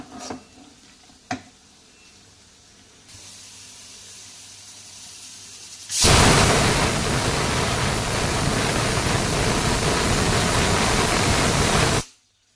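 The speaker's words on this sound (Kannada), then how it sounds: "ಮೂರು ವಿಷಲ್ ಕೂಗಿಸ್ಕೊಳ್ಳಿ." A pressure cooker cooking bisi bele bath lets out a loud, steady rush of whistling steam for about six seconds, starting abruptly after a quiet kitchen lull and cutting off sharply.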